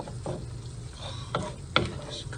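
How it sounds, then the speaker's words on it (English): Vegan spaghetti pie filling bubbles softly in a pan, with a steady low sizzle and a few scraping stirs of a utensil breaking through, close up. "So I'm going to just let that simmer for a minute"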